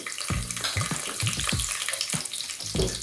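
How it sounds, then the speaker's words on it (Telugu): Dates and almonds frying in a pan for Muslim-style mutanjan sweet rice, giving a steady hissing sizzle with bubbly, watery crackle and intermittent low thumps from pieces being moved. "ఖర్జూరం కూడా ఫ్రై చేస్తున్నాము. ఆ తర్వాత ఇవ్వండి మన బాదం వేస్తున్నాను."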